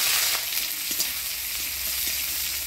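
Chopped onion and black cumin frying in hot oil in a village kitchen make a continuous bright, close sizzle with faint stirring scrapes, heard alone.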